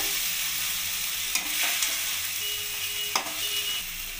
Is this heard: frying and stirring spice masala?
yes